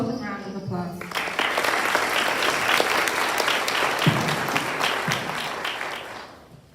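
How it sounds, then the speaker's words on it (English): Audience at a high school senior awards ceremony giving a round of applause, a thick, continuous burst of many hands clapping that swells quickly after a voice and tapers off at the end. "Please give them both a round of applause."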